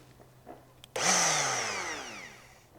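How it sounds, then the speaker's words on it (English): Die grinder fitted with a slightly bent carbide burr cutting into ductile iron, spinning up with a loud rising whine that settles into a steady, harsh, close grinding screech that slowly fades. "I've got a carbide burr on my end grinder here"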